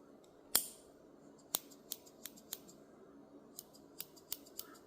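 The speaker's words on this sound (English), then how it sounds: "On this side, we have the scissors." Scissors on a Grand Harvest 25-in-1 multitool open with one sharp snap, followed by a run of lighter, irregular metallic clicks as the tool is handled up close in a quiet room.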